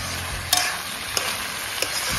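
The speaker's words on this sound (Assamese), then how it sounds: "হাঁহৰ মাংসখিনি এতিয়া ভাজি ভাজি ৰঙচুৱা হ'ব লাগিব" Marinated duck meat fries in hot oil in a pan with a steady, loud sizzle, broken by a few sharp scraping stirs of a spoon, no voices over it.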